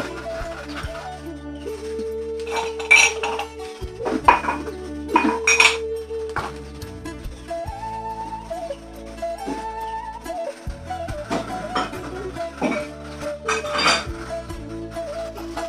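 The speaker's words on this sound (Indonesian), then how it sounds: "Di senari kakak kan mencuci piring" Someone is washing dishes, and plates, pots and cutlery clink and clatter close by. The knocks come steadily with a few louder clashes, and water sounds run underneath without any talk.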